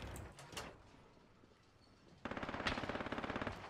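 Video game gunfire: a fast, rhythmic burst of automatic shots starting partway through, preceded by a few scattered shots, fairly faint overall.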